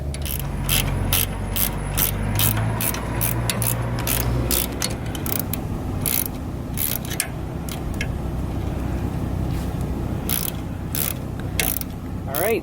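Ratchet straps with rubber coating being tightened on a solar panel mount with stainless steel hardware, giving a fast, continuous run of close metallic clicks and ratcheting over a steady mechanical hum.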